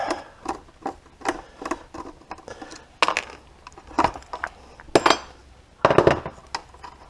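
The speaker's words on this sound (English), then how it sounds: "so we can use a screwdriver and remove the battery clamp." A screwdriver works loose a battery clamp, giving irregular metallic clicks and taps, some sharper and louder, spread across the stretch with no talk.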